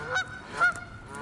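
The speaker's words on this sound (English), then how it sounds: "Yeah, I pissed these geese off" Geese honking by a creek near a gravel bar and old piers: two short, nasal honks about half a second apart, moderately close, with quiet outdoor background between them.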